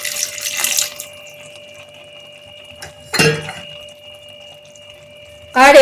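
A little water is poured into a pot of prawn biryani in a home kitchen, giving three short splashing bursts with quiet pauses between them and a faint steady hum underneath.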